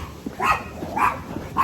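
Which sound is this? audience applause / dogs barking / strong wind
dogs barking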